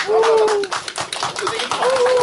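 People clapping at an outdoor athletics federation winter training gathering in Korea, a short burst of hand claps heard close and loud, with a voice speaking through and around it.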